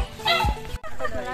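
Puppies at a beach resort in Bali yip and whimper in short bursts, mixed in with people talking nearby.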